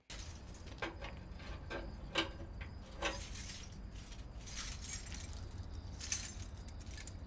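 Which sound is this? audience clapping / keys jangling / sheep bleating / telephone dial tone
keys jangling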